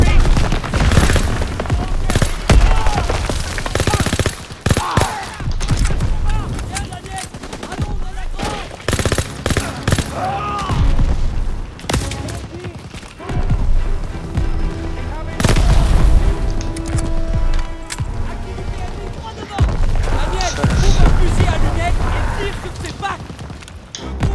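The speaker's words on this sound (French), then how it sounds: "Les PAC 38 nous tirent dessus." PAK 38 anti-tank guns firing in a World War II battle in the Call of Duty WWII video game, mixed with dense machine-gun bursts, heavy booms and constant battlefield din, loud and continuous, with game voices over the combat.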